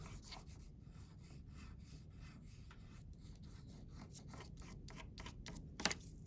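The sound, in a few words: white crayon drawing on paper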